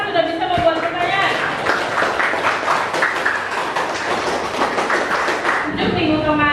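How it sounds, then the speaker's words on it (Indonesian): A classroom of students clapping their hands together, a dense sustained burst of applause lasting several seconds, close and loud, with a voice heard briefly before and after. "tepuk tangan dulu buat kita semua sudah bisa membuat pertanyaan"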